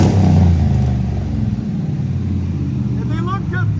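A cammed Chevy/GMC 5.3L V8 fitted with headers and a Magnaflow exhaust with built-in X-pipe idles and revs with a deep, steady rumble close by, while people talk over it.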